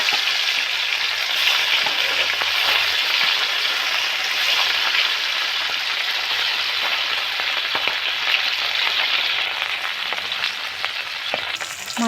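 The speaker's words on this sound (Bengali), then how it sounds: "মাছগুলো ভেজে নেব।" Fish frying in hot mustard oil in a wok, parshe and phesa fish for a potato-aubergine dish; a steady, dense sizzle runs loud and close throughout with faint stirring clatter and no voices.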